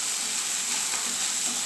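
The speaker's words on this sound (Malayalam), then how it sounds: "നമുക്കൊന്ന് ഇളക്കി കൊടുക്കാം." Ginger and garlic fry in hot oil over high flame for Chinese chicken, giving a steady close sizzle with a soft hiss and no distinct stirring strokes or voices.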